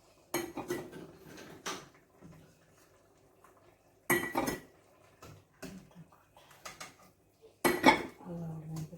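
Dishes and utensils clink and clatter in bursts as tomatoes are fished out of a pot, with sharp metallic knocks separated by quiet pauses.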